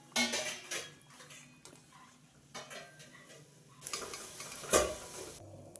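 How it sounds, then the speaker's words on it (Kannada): Poha ambode, crispy fried fritters of flattened rice, frying over medium heat in a pan, with soft sizzling and intermittent clinks and scrapes as the pieces are stirred and turned. "ಕಂದು ಬಣ್ಣ ಬರುವವರೆಗೆ ಇದನ್ನು ಮಧ್ಯಮ ಉರಿಯಲ್ಲಿಯೇ ಕಾಯಿಸ್ಕೊಂಡ್ರಾಯ್ತು"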